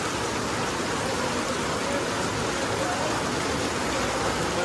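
Heavy evening rain pours down steadily outside a home, a dense, even hiss that holds at the same loudness throughout, with no other sounds standing out.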